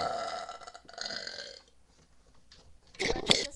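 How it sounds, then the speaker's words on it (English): A woman lets out a long voiced burp, then falls quiet before a short, sharper second burp at the end, close and fairly loud. "Let me burp."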